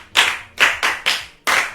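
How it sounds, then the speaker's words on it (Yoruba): A group of children gives another round of applause at a Yoruba children's programme, five sharp close claps spaced unevenly. "ó tiẹ̀ gbìyànjú. ẹ pàtẹ́wọ́ fún lẹ́ẹ̀kan sí"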